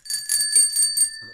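Bell rings in a rapid series of bright, tinny strikes with a steady high tone, close and loud for just over a second, then cuts off.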